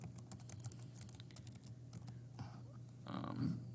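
Rapid keystrokes clatter on a computer keyboard, a steady run of close typing clicks over a low hum, with a brief voice near the end.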